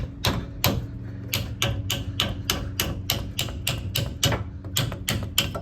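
Repeated hammer blows knocking an old sway bar link off a Silverado 2500, sharp metallic strikes in a fairly even rhythm, about a dozen hits, close and clear.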